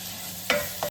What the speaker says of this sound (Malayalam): സവോള ജസ്റ്റ് ഒന്ന് ഇളക്കി കൊടുക്കാം.